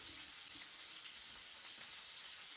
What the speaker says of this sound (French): on fait bien revenir jusqu'à temps que ce soit doré sur toutes les faces